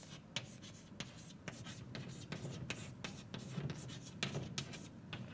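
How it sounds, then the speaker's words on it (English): Chalk scratches and taps out a rapid series of strokes on a board in a lecture hall, each stroke a sharp, close scrape with short pauses between, faint room murmur underneath. "So let me write this down."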